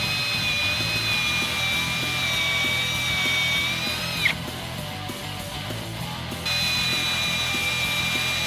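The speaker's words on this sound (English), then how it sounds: "This wood's tough. It drills like soft metal." Power drill with a 3/8 bit boring into tough hardwood for a mini sledgehammer handle, a steady high whine at medium speed that briefly drops out and then resumes, close and continuous without talk.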